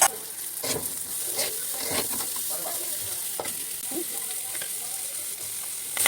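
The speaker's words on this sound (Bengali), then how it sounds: "এখন ক্যাপসিকাম দিয়ে দিলাম।" Capsicum, onion, garlic and green chili fry in a pan during prawn soya ball cooking, giving a steady close sizzle with repeated spatula scrapes and stirring knocks, and no voices.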